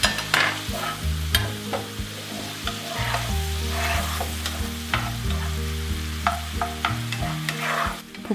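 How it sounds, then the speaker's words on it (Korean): A steak pan is deglazed over high heat for a one-pan cream pasta, giving a loud, steady sizzle with repeated close scraping strokes of a utensil across the pan and no voices. "강불에서 디글레이징을 해주세요."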